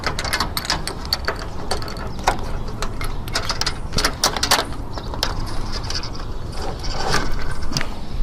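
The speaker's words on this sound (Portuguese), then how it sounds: "Vou botar já o segundo parafuso, depois eu venho apertando." Metal bolts and fittings clinking and ratcheting as a second bolt goes into a solar panel mounting rail, a steady run of close, sharp metallic clicks and taps with no talk.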